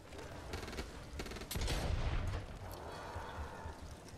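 Rapid gunfire from the Back 4 Blood video game, with dense bursts of automatic shots and a heavier blast midway, continuous and fairly loud throughout.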